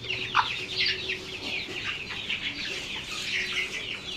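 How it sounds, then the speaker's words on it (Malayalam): Kurungali breed hens cluck and murmur close by in short bursts, a steady chattering of several birds with one sharper call near the start. "ഇതാണ് നമ്മളെ കുറുങ്ങാലി കോഴി."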